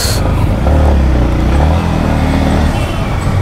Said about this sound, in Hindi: तो अभी थोड़ा चलाते हैं फिर आप लोगों को बताएंगे बाइक कैसा लगा मुझे